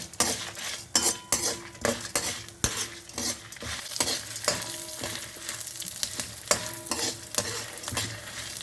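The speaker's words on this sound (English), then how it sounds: "So you need to fry all the pulses until it comes to a brown color." Close, steady sizzling of chana dal, coriander, fenugreek and red chilies frying in hot oil, with repeated scraping and clinks of a utensil stirring the pan.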